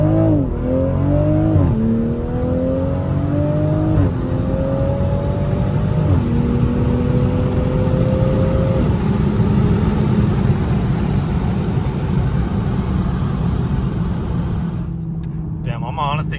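A Toyota A90 Supra with a CTS Turbo downpipe launches hard, the exhaust rising through several stepped gear shifts into a loud sustained drone, close and continuous, with a voice briefly heard near the end.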